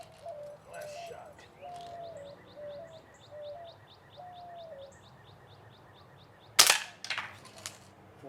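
A Crosman 760 BB gun fires one sharp, loud crack close by, following a stretch of quiet outdoor ambience filled with birdsong and chirps, with a faint rustle after the shot.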